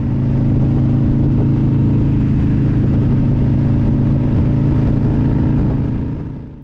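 Motorcycles ride along a road in Northland, New Zealand, toward the Old Parakao Store, their engines droning at a steady, loud, close hum throughout.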